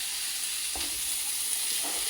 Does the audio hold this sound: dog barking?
no